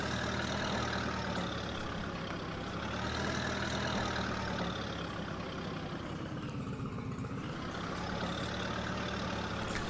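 A slow Minneapolis Moline tractor drives in Farming Simulator 22, its engine droning loud and steady, the pitch gently rising and falling as the revs swell and ease throughout.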